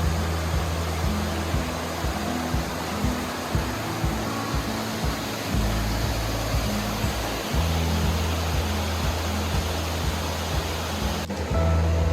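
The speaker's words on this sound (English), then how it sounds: "This is the Lehigh River." Lehigh River in Lehigh Gorge State Park, a steady loud rushing of flowing water, broad and continuous, with a low rumbling undertone throughout.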